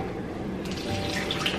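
A tap runs steadily as water fills toy baby dolls, a close continuous splashing stream that grows slightly brighter and louder partway through.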